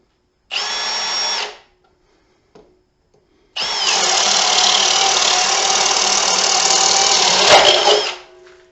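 A cordless drill in drill mode, its battery down one bar, whirs loud and close in a short burst, stops, then runs steadily for several seconds at a high whine before spinning down, with no talking.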